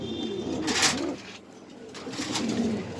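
Pigeons cooing at a pigeon farm, soft repeated low coos in short bursts, with some background rustle and no talking.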